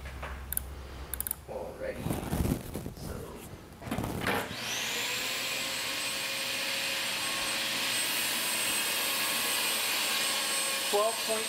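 A vacuum cleaner switches on during a suction test while its amperage is measured. A few seconds of handling noise come first, then the motor kicks in and holds a loud, steady whine and rushing roar to the end.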